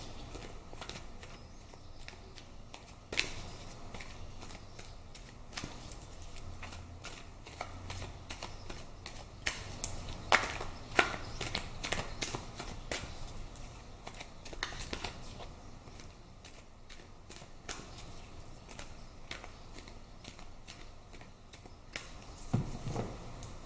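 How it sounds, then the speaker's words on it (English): Tarot cards are shuffled and pulled in a long, quiet stretch of soft riffling and papery flicks that come in irregular bursts, close to the microphone with no talking. "let's pull some more cards and see."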